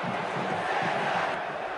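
Bahia supporters in a packed Brazilian league stadium roar after a Flamengo own goal, a dense continuous crowd din of cheering and shouting with no break across the short span.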